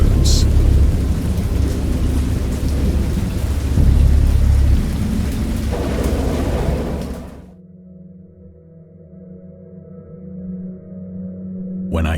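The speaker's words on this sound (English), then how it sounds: "I heard pearls of thunder and other tones which nature utters only in her wildest moods" A wild thunderstorm: heavy rain and deep rolling thunder build for several seconds, then cut off sharply, leaving a quieter low rumble before the rain swells again near the end.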